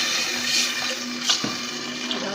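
Water pours steadily from a tap into a pot holding sugar, spices, salt and cumin, a continuous close rushing splash with a low hum underneath and no talking.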